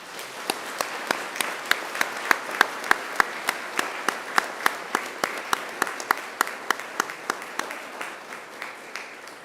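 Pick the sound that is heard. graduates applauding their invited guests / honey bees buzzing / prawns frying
graduates applauding their invited guests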